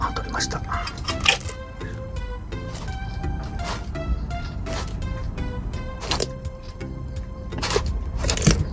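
A monitor lizard eating a crayfish: several sharp, wet crunching cracks come in irregular bursts, close up, over a steady background of tonal music.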